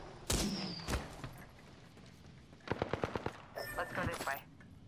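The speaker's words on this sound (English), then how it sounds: "Shots fired at me. Battling the enemy." Gunfire in the Apex Legends video game: several separate shots, then a tight burst of rapid automatic fire and more shots, mid-distance and fairly loud over game background noise.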